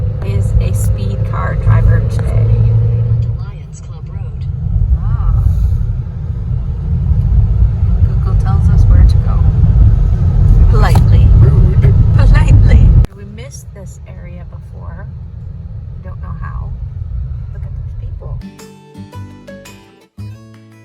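A car drives along a road near Sherman Falls in Hamilton, Ontario, its loud low engine and road rumble steady for about thirteen seconds, then quieter rumble continues with a few short sounds and faint voices.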